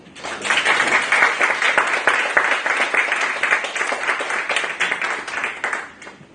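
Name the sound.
audience applause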